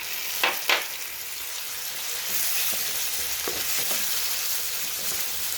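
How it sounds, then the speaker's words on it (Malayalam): Ground tomato paste hits hot masala in oil and fries with a steady close sizzle, a couple of sharp stirring scrapes at the start and softer spoon strokes later. "അതിനുശേഷം അരച്ച് വെച്ച ടൊമാറ്റോ ഇട്ട് കൊടുക്കാം."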